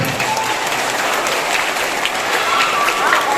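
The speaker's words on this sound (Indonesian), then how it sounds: "Tepuk tangan dulu semuanya" Schoolchildren at SDN Arun Lhokseumawe fill a Maulid Nabi celebration with steady, dense applause, a loud wash of many hands clapping throughout.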